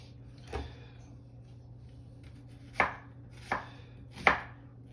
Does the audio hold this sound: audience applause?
no